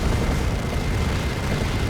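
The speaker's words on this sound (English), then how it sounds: "Assault Cannon barrage." Assault Cannon barrage in the video game Dawn of War 2: a dense, continuous roar of rapid, blasting heavy fire at high volume, unbroken for the whole short stretch, with no talk.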